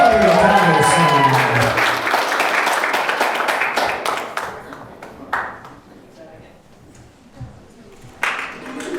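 Wedding guests applaud on the dance floor, a burst of clapping with a voice over it that gradually thins out into scattered claps and quieter room sound.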